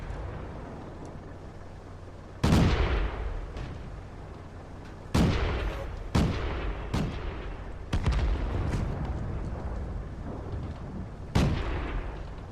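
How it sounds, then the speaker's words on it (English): Tank cannon fire in World of Tanks, with a Pz.Jag. I being shot at: about half a dozen loud, sharp booming blasts at irregular intervals, each with a rumbling decay, over steady low battle noise and no talk. "someone shooting the Pz.Jag"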